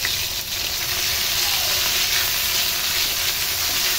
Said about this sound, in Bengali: দিয়ে ভালোভাবে নাড়াচাড়া করে ভেজে নিতে হবে।